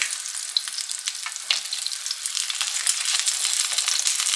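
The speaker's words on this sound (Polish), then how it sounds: "Chyba samo smażenie najdłużej zajmuje czasu." Food frying in hot fat in a home kitchen pan, a steady close sizzle with dense crackling and spitting that continues without pause and without any voices.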